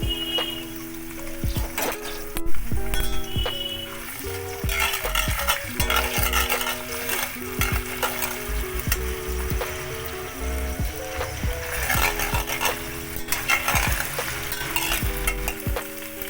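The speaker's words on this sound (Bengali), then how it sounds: "এর মধ্যে আমি একটু আদা বাটা দিলাম।" Partly boiled potatoes cook in a pan with ginger paste just added, giving a soft sizzle under repeated scraping and stirring strokes, close and continuous with no talk.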